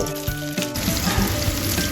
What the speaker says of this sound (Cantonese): 咁依家將啲肉放落去